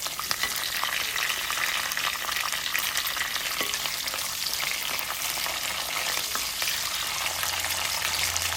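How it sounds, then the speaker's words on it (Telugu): Curry leaves, green chillies, ginger and onions fry for dal khichdi in a hot pan, giving a steady close sizzle with occasional stirring scrapes and no talking. "కరివేపాకు, పచ్చిమిరపకాయలు, అల్లం, ఉల్లిపాయలు వేసుకుని ఒకసారి ఇలా ఫ్రై చేసుకుని"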